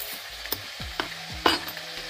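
Food browns in a hot pan, a continuous soft sizzle broken by a few sharp spatula taps and scrapes spaced about half a second apart, close with no voices.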